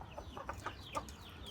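Several quiet clucks from a chicken, short soft calls spaced irregularly, faint and close.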